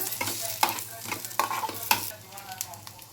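Sweet corn masala with ghee being stirred in a pan: a steady sizzle under repeated scraping spoon strokes, with a few sharper knocks against the metal, close and fairly clear.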